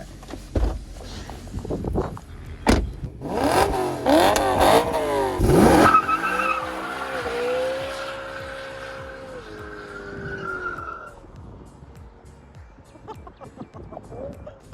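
A BMW M3 E92 launches from a standstill with traction aids off, its engine revving hard as the rear tires squeal and slide, then the revs drop away into a fading rumble.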